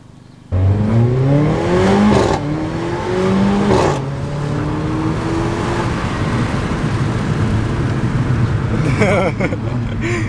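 A car engine revs hard right up close, its pitch climbing and dropping in repeated pulls over a loud, steady idle rumble that lasts throughout.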